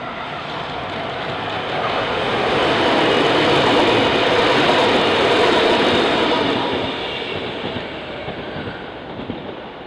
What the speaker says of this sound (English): the train heads through Roxdale.